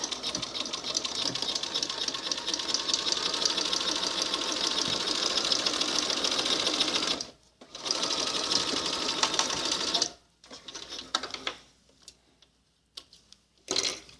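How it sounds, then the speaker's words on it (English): A sewing machine stitches along the edge of a small doll-sized infinity scarf, a fast steady mechanical whir for about seven seconds, then shorter bursts with pauses as it stops and restarts. "We're going to sew this right along this edge, making sure that this seam allowance doesn't"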